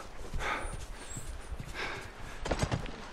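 Horses in The Last of Us, a few soft hoof thuds and movement, quiet and brief, with no voices.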